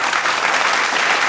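A studio audience at a Kannada TV comedy show breaks into loud, dense applause that fills the whole short moment.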